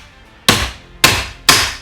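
Three sharp metallic hammer strikes ring out one after another at an uneven pace, each fading quickly. They come from driving a pressed-in roll pin out of a Porsche 914 pedal set, with no voices.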